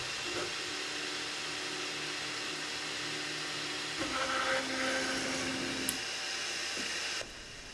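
A 3D printer's stepper motors whine and buzz as the machine drives its head to the park position to wait for a filament change, tones shifting through a few short moves over a steady fan hiss before stopping.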